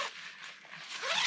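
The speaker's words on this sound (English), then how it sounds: "the zipper only comes this far" A zipper on a Velar UL bivy bag, a lightweight emergency shelter, is pulled in one continuous rasping run, close and clear, with no talk over it.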